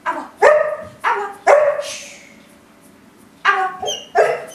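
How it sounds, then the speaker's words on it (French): A dog barks on command, with four sharp, loud barks at close range, a pause, then two more, with no talking over them. "maintenant votre chien peut aboyer sur commande"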